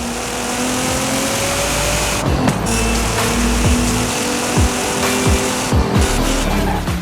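A Nissan GT-R R35 drives along the road, its engine droning steadily and rising and falling in pitch as it shifts, with brief tire squeals and short clunks over a constant road roar.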